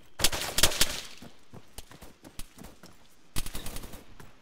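Gunfire in the Arma 3 military shooter: a close, loud burst of rapid shots at the start, scattered fainter cracks through the middle, then another quick volley near the end, with no talking.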